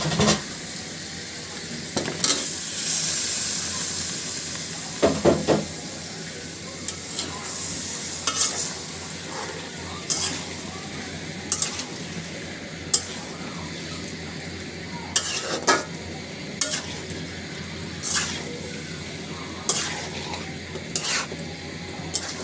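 Chicken pieces added to a spice paste fried in oil with blended green chillies sizzle steadily in a pan, broken by repeated sharp stirring and scraping knocks of a utensil against the pot.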